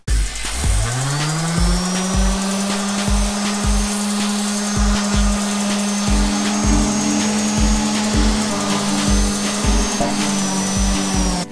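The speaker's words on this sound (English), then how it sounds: "I'll fix it later and switch over to my orbital sander to finish the job" An orbital sander works over an old milk can, giving a continuous loud whirring motor drone with a steady pitch and a rhythmic grinding pulse under it, with no voices.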